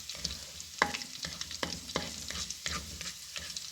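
Garlic frying in a pan is stirred in quick, irregular scrapes over a soft, continuous sizzle, close and fairly quiet.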